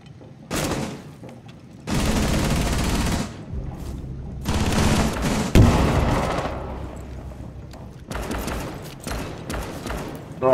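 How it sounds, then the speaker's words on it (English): Gunfire in Rainbow Six Siege, Oregon map, team deathmatch: repeated loud bursts of automatic fire from several directions with brief gaps, some shots sharper and closer, over game ambience. "I'm getting shot at from like three angles."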